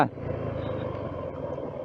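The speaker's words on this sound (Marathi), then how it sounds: "सेकंड गिअरला पण ह्याच्यावर चढते गाडी विचार करा" A Suzuki off-road vehicle labours up a steep dirt track in second gear at an off-road event, its engine a steady, close low drone with no pauses.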